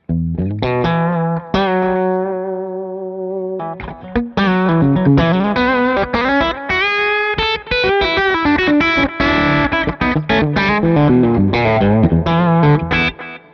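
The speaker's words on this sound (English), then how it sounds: "Let's add a little bit of reverb." Electric guitar run through a Wampler Ethereal ambient delay and reverb pedal, a Clarksdale overdrive stacked on it; sustained chords, then busy picked lines with echoing repeats, loud and alone without talk.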